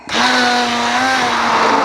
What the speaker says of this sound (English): then it's just a case of blitzing them up